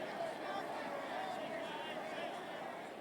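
A dense murmur of crowd chatter in Final Fantasy VII Rebirth fills the scene, many overlapping voices blending into a steady, busy hum with no single speaker standing out.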